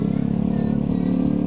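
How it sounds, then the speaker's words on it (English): Honda BeAT 110 scooter from 2014 with a changed exhaust, running with a steady, smooth low engine note and even revving throughout, close and fairly loud, no talk. "Now for the exhaust."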